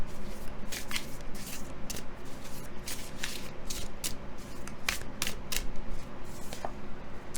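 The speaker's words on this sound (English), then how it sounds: "Let's shuffle these a little bit more." Tarot cards being shuffled by hand during a card reading, a steady run of crisp riffling and flicking bursts, close and continuous, with no speech.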